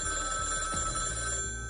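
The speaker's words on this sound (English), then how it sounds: "the phone on your desk begins to ring" On Christmas Eve at NORAD, a desk telephone rings with a steady, sustained electronic trill, close and clear, with no voices over it.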